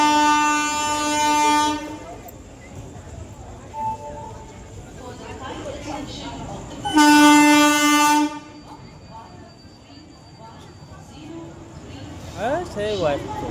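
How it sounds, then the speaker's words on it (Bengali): The Bhagirathi Express pulling into Ranaghat station sounds two long, loud horn blasts a few seconds apart, with rumbling rail noise and people talking on the platform in between. "এই যে ট্রেন ঢুকছে আমাদের ভাগীরথী এক্সপ্রেস"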